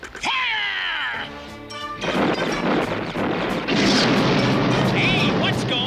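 The guns of the cartoon battleship Montana firing: a loud series of booming crashes and thuds with clanging impacts and rising whistles, following a shouted command and mixed with voices and dramatic cartoon effects.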